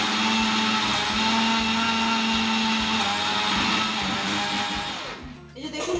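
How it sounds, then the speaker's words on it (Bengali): An electric kitchen mixer grinder whirs at high speed, powdering sugar for cake batter in a loud, steady whine before spinning down and stopping near the end. "আমি চিনিটা মিক্সিতে গুঁড়িয়ে নেব"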